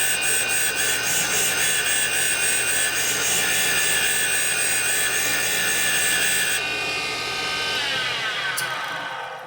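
A valve from a Harley-Davidson top end is ground during a valve job, a loud continuous high-pitched whining, rasping grind that runs throughout and tapers near the end.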